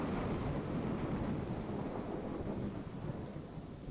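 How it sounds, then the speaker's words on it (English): Steady rain and rolling thunder from a video game storm, a dense unbroken rumble that holds loud throughout and eases slightly toward the end. "Got nice rain noises. And lightning."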